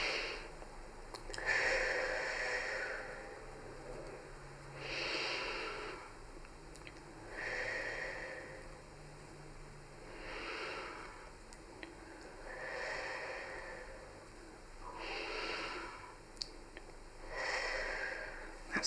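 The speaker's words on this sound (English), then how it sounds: "And then if you breathe for a count of 4" A person breathes deeply during a self head massage exercise, taking slow, close, airy breaths in and out in a regular rhythm of about six cycles, each one clearly audible in the quiet.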